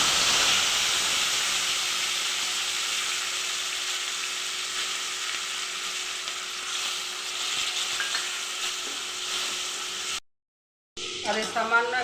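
Cumin seeds and a bay leaf fry in hot oil with a steady, close hiss and sizzle that holds for about ten seconds, stops abruptly, then returns with faint clinks.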